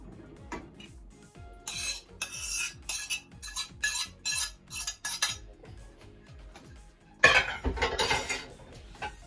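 A spoon breaks up tender braised vegan beef in a pot, making repeated close scraping and clinking strokes against the metal in an irregular rhythm, with one louder scraping flurry near the end.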